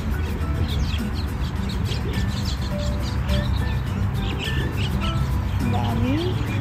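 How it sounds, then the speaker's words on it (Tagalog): Pigeons and other birds along the Abu Dhabi Corniche waterfront, with scattered chirps and calls over a steady outdoor hum while people talk nearby. "Ayun, mga ibon sa tabi-tabi. Ay, dami. Dami mga kalapati."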